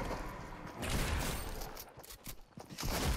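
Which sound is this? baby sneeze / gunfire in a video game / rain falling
gunfire in a video game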